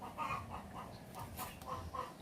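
A chicken clucks in short repeated bursts near a nesting spot on a rural Bohol property, moderately close and fairly quiet against a light outdoor background.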